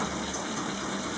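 Water gushing steadily from the drain hose of a pedal-powered washing machine, a continuous rushing flow heard close and alone for just over a second.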